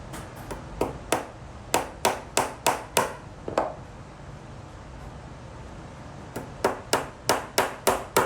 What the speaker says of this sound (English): what I'm going to do next is nail these all together